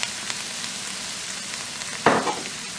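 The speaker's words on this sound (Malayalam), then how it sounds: "ഇതൊന്ന് ലൈറ്റായിട്ടൊന്ന് ഫ്രൈ ചെയ്തിട്ട് ഇതിലേക്ക് നമുക്ക് 1 ടീസ്പൂൺ ഗരം മസാല ഇട്ട് കൊടുക്കാം." Chicken stew masala fries lightly in a pan with a teaspoon of garam masala, a steady quiet sizzle broken by one brief louder stirring scrape near the end.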